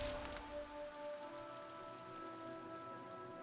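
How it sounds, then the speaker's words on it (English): Steady rainfall from the fantasy strategy game Thea 2: The Shattering, a soft continuous patter of rain on a surface with a faint tonal game hum underneath, even and unbroken. "It's now raining, which reduces visibility range by 1 and movement points by 1"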